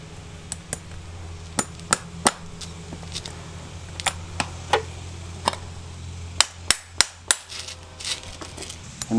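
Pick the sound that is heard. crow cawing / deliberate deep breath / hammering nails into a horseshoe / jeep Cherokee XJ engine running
hammering nails into a horseshoe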